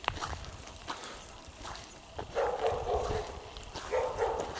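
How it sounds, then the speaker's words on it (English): The neighbour's dogs bark at someone on an outdoor nature walk, a pit bull among them, with several repeated barks at moderate distance mixed with footsteps and outdoor noise. "They're just barking at us."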